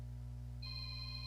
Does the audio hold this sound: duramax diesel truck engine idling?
no